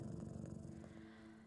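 Cat purring steadily while being petted in the game Bully Scholarship Edition, a low, close, rumbling purr that slowly fades toward the end.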